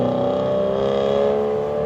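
A car with a newly fitted rear diffuser drives off, its engine giving a steady close whirring drone for about two seconds with no talk.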